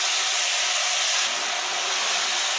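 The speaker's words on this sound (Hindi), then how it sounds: "तड़का हो गया है, मसाला और क्या बोलते हैं इसको पटर एक साथ फ्राई करेंगे।" Peas and masala sizzle together in a hot pan after tempering, a steady, loud broadband hiss of frying that runs unbroken and close throughout, with no voices.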